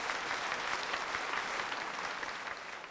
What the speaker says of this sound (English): The audience erupts into applause.